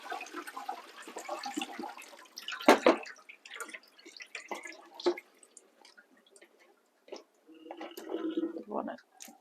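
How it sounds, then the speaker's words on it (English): Water drains from soaked baby spinach through a kitchen colander while a lamb curry is cooked, giving uneven splashes and trickling drips as a person talks. "just put it through your colander."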